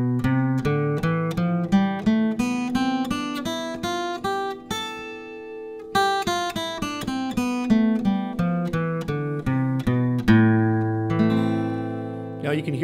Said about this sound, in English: It's called an A natural minor scale.